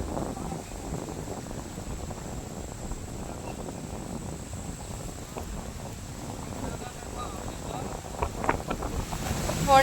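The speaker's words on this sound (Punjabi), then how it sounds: "ਬਾਕੀ ਹਵਾ ਬਹੁਤ ਚੱਲ ਰਹੀ ਹੈ ਜੀ" Strong wind blows across open farm fields where a tractor is sowing, a steady, rough rush buffeting the microphone for the whole stretch, with faint talk mixed in.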